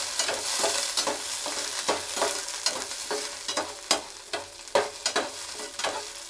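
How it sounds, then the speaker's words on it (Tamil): Onions sautéing in hot castor oil in a pan, a steady close sizzle broken by repeated scraping stirs at a fairly regular rhythm, with no talking. "இந்த விளக்கெண்ணெயில் தான் இப்போ நான் வதக்க போகிறேன்."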